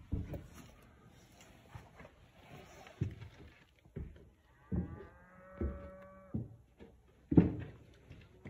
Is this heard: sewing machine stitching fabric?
no